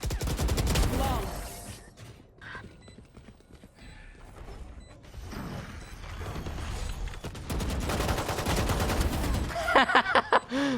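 Automatic weapon sprays bursts of gunfire in a Valorant match, mixed with game effects and scattered voice chat, with loud rapid clusters near the end.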